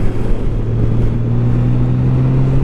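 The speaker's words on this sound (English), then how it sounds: "Here's a downshift into second, accelerate through the curve" A 2020 Honda Goldwing motorcycle's engine hums steadily and loudly from close by as it pulls through a curve after a downshift into second, with a low, even drone that holds throughout.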